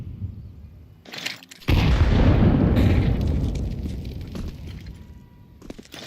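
A grenade and molotov explode in the Counter-Strike video game: a brief burst comes first, then a loud, sustained roaring blast that slowly fades over several seconds, with no voices.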